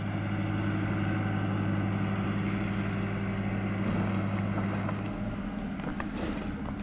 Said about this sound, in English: Tractor over here across the valley.